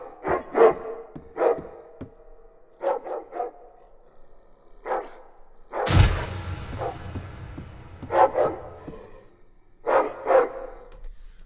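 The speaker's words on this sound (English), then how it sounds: "so play the dog noise" Dog bark sound effect triggered in a double room setup through a voice profiler, sharp repeated barks in short bursts with gaps between them and one louder noisy burst in the middle, clear and close.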